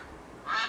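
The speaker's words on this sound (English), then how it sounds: "Duck" A single short duck quack, brief and moderately loud, arriving alone at the end of an otherwise quiet moment.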